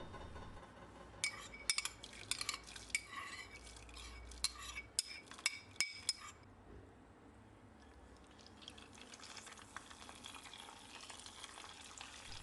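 Rice pilaf with chicken stock and water being stirred in a pot, metal spoon clinking and scraping against the pot sides over a soft bubbling simmer, then quieter stirring.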